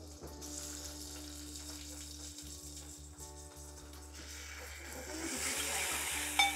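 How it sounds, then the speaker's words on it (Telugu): Tomatoes frying in a pan with curry leaves in a home kitchen, a faint steady sizzle over a low hum, with occasional clicks and the hiss rising toward the end. "ఈ టొమాటోస్ కూడా బాగా ఉడికేంత వరకు ఇలాగే ఫ్రై చేసి పెట్టేసుకోవాలి."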